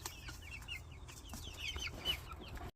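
Backyard chickens, including a young cockerel, cluck and chirp in a quiet series of short calls, fairly faint and close, with no talking.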